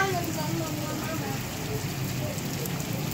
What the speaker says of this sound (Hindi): कितना तेज़ बारिश शुरू हो गई है।